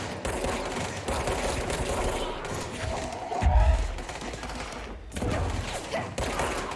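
Rapid gunfire rattles through a firefight in the game Control, dense bursts of shots with a heavy thud midway and brief gaps, loud and close.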